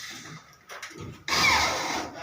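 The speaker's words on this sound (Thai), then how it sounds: "ช่างเรากำลังประสานยิงลูกสกรูนะฮะ" A cordless screw gun drives screws into a ceiling during drop-ceiling construction, giving short whirring bursts and a longer grinding spin, close by and with no talk.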